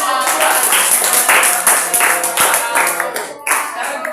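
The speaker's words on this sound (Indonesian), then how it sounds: "Oke, berikan aplaus semua." A presentation audience gives a round of applause, many hands clapping close and loud for about four seconds, dipping briefly near the end before picking up again.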